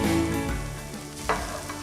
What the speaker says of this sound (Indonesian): Ini kita mau tumis sebentar sampai dia layu ya.